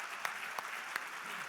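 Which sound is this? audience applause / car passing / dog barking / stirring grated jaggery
audience applause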